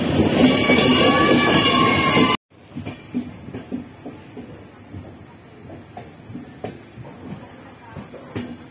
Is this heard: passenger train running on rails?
yes